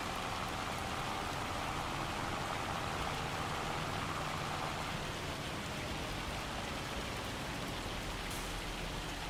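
Rain falling in Farming Simulator 25 on Wernolau Farm, a steady, dense hiss of drops on surfaces that continues evenly throughout without any voices.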